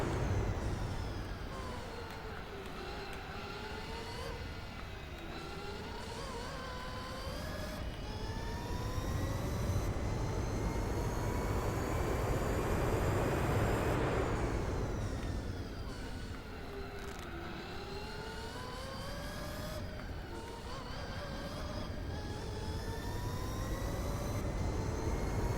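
In the Gran Turismo 4 video game, a racing car engine whines, climbing and falling through the gears over a long stretch. The sound is steady and moderately loud, with a surge of braking and tire noise midway and no talking.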